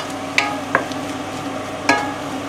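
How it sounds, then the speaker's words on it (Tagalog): Vegetables are stirred in a frying pan, a utensil clicking against the pan a few times over a soft, steady sizzle. "haluin lang natin ng very,"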